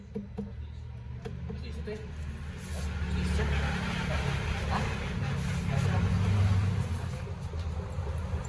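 Peugeot 308 car engine running noisily just after the radiator was filled with water, a steady low rumble that swells a little partway through and stays loud and close throughout.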